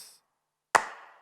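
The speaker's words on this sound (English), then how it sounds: "Next up are the human claps." A single human handclap sample from the Addictive Drums library cracks out sharply and alone, with a quick, slightly reverberant tail after a brief faint hiss at the start.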